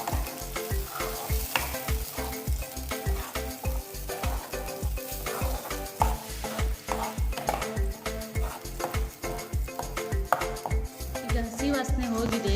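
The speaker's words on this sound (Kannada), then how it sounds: "ಹಸಿ ವಾಸನೆ ಹೋಗೋ ತನಕ ಫ್ರೈ ಮಾಡ್ಕೋಬೇಕು." Chicken gravy masala frying over a low flame, a steady sizzle broken by a fast, regular run of spoon strikes against the pan, close and busy throughout with no talk.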